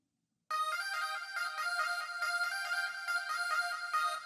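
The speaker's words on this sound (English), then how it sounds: "that lead is the Morpher lead in Triton" A synth lead using the Morpher lead preset in the Triton, part of an Asian rock style beat, starts after a brief silence and plays a bright, rhythmic line of pulsing notes alone, with no talking.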